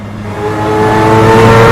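Mazda 787B race car in Assetto Corsa on the Nordschleife, its engine note climbing steadily in strong harmonic bands as it revs through a downshift under braking, loud and close with no talk.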